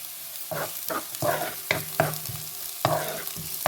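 Dried chilies and curry leaves, with onion, sautéing in a pan for a Tamil cabbage stir-fry, a soft sizzle broken by several sharp spoon scrapes and clinks, close and with no talking.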